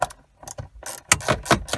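Metal bolts being threaded back in by hand while reassembling a Chevy Aveo steering column: short, uneven clicking and scraping ratchet-like taps, close up and fairly loud, in quick irregular bursts.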